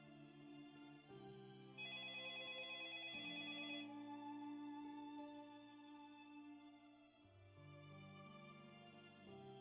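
Electronic phone ringtone in the video game Troubleshooter, a melodic repeating tune with shifting tones, quiet and alone without any speech.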